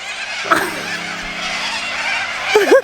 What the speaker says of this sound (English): I feel like I'm in a cockatoo sanctuary.